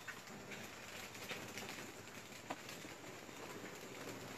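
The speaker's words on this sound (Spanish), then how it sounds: "Está muy alterado los pájaros." Birds call and coo in a cemetery at night, a steady busy chatter of pigeon- or dove-like sounds over a constant hissing background, with a few slightly louder calls standing out.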